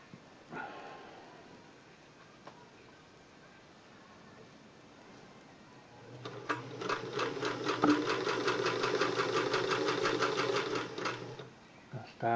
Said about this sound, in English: there's no light switch on this machine, so when you plug it in, it comes on. So, doing a straight stitch.